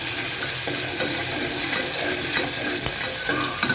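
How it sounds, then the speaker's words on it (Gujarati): Green onion sautéing in a hot pan: a loud, steady hiss of frying fills the whole stretch, with a few soft stirring knocks and no speech. "ડુંગળી નાખીશું, લીલી ડુંગળીને આપણે સાતળવા દઈશું"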